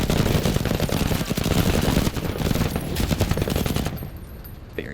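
Dense rapid gunfire in the Menace tactical video game, loud continuous bursts of shots for about four seconds before cutting off into quieter ambience, with no talk.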